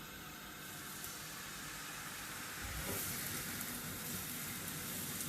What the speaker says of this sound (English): And you can hear that sizzling away, can't you?